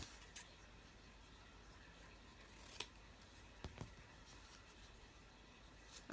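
Scissors snip coral ribbon in a quiet room, a few faint, sharp cuts spaced apart over soft background hiss.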